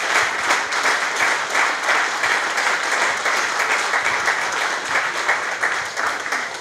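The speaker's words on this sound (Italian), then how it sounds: "un applauso va anche a tutte quelle che sono state le signore" Sustained, dense applause from a crowd gathered for the 50th-anniversary celebration of the Sovramonte football club, a loud even wash of many hands clapping with no pause.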